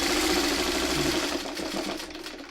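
A sewing machine stitches quilt fabric for a split star quilt block, its motor and needle running in a steady, close, continuous whir that eases slightly toward the end.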